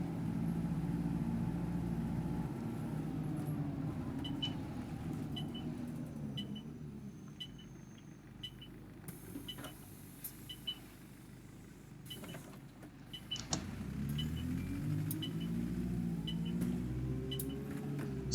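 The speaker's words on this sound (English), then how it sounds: "Basically, the gearbox on this just sounds a lot more tuneful" An ADL Enviro200 bus with a ZF gearbox driving in the OMSI 2 simulator, a steady low engine drone that dips and climbs again as the gears change, with faint beeps and clicks around it.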